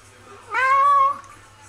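A person imitates a cat with a single drawn-out meow, loud and close, rising then falling over about half a second, with a low steady hum underneath.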